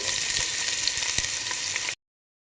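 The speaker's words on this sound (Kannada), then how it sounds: "ಇದಾದಮೇಲೆ ಇವಾಗ ಕಟ್ ಮಾಡಿಟ್ಟಿರೋಂಥ ಈರುಳ್ಳಿನ ಹಾಕ್ಕೊಳ್ಳಿ." Chopped onions hiss and sizzle steadily in hot oil with cinnamon, cloves and cardamom for a mushroom biryani, a dense close crackle that cuts out abruptly near the end before briefly returning.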